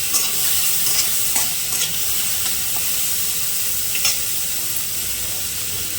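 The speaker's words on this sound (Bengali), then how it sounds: "পেঁয়াজটা লাল লাল করে ভেজে নিই।" Chopped onion and garlic fry in the hot oil left from frying eggs for an egg curry. A continuous close sizzle carries faint stirring clinks and a few brief spitting bursts, with no talking.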